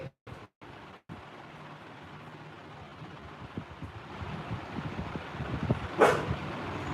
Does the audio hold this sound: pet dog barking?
yes